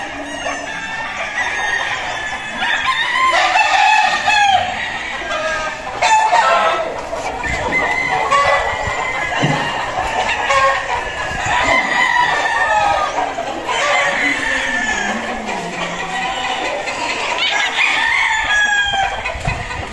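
Chickens and gamefowl roosters at the Blueblade gamefarm breeding pens crow over and over, several birds overlapping near and far, with steady clucking and cackling filling the gaps throughout.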